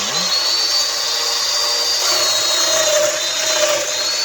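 A domino cutter cuts into wood with a continuous high, whining motor hum and a rough grinding hiss. The sound is steady and close, with no talking over it.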